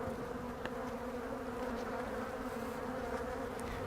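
Honeybees in an opened hive during a split, a dense, steady buzzing hum from many insects close by, with occasional louder passes of individual bees near the listener.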